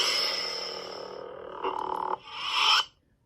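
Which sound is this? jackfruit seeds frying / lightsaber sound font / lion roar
lightsaber sound font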